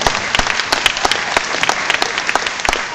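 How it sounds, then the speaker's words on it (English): An audience at a community beach access meeting claps loudly and steadily, a dense burst of applause close by with sharp individual claps standing out and no talking. "All right, big applause."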